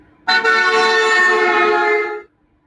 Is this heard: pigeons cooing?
no